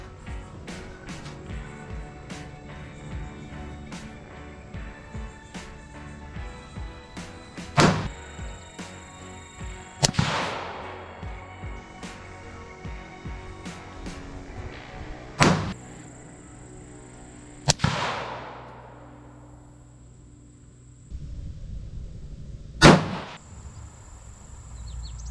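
Rifle shots during load development on an Oryx chassis rifle, heard as several sharp, spaced-out reports with ringing decay over a steady low background, no talking.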